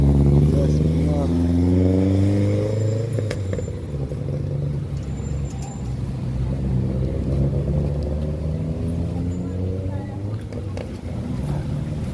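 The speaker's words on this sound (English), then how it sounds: "Traffic busy today" Busy street traffic at Half Way Tree in Kingston, Jamaica: car engines idle and rev nearby with some rattling clatter, and someone talks over the rumble throughout.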